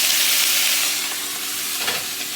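Rabbit pieces frying in hot oil in a pan for an Italian-style dish give off a steady, close sizzling hiss with faint crackles and a brief stir near the end, with no talk.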